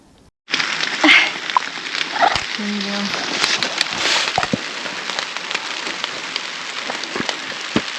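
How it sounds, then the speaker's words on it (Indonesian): Rain falls on hikers on the Prau trail near Dieng, a steady broadband hiss that starts abruptly and carries on evenly throughout, with faint voices underneath. "Udah hujan. Ini kita pakai jas hujan ya."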